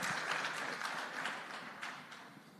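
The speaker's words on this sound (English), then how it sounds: "Give them a round of applause" A conference audience at a cybersecurity event gives brief applause that starts full and thins out as it fades, heard slightly distant with no voices over it.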